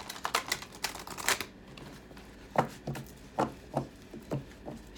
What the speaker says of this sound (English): So I'm just going to shuffle it while we talk amongst ourselves.